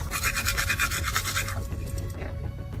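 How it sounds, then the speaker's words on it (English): Brisk rhythmic scrubbing of a toothbrush on teeth, close and steady at first and then easing off, inside a car where the person brushing is living. "Now we're gonna brush my teeth."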